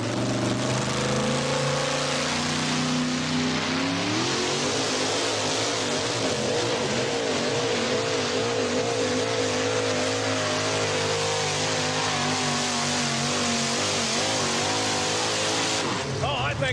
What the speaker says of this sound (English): Bud Jaske right now hooking up to see if he can take the sled past